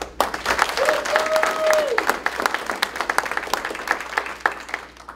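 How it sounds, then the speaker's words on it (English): Audience at a speaking event bursts into loud applause with a few cheers and a short whistle, the clapping dense at first and then thinning out gradually. "Give them a round of applause."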